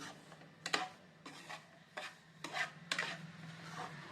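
Bombay rava roasting on low heat in a pan, stirred in a series of distinct scraping, rustling strokes about every half second, close up and fairly quiet, with no voices.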